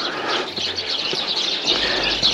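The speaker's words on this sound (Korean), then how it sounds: "새들이 막 들어와 놀이터다 놀이터." Birds chirping around an overgrown rural house plot between a country house and a slab building, a steady scatter of small tweets at middle distance over faint outdoor background.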